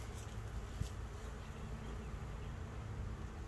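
Honey bees from a mean Canadian Buckfast colony buzz at an open hive during a split, a steady, close, even hum with no voices.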